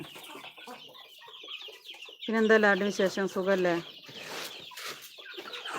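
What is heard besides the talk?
chickens clucking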